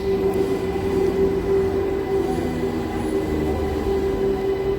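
A MEMU passenger train running on the Kacheguda to Raichur route, heard from inside as a loud, steady rumble with a sustained mechanical hum and rhythmic wheel-on-rail clatter.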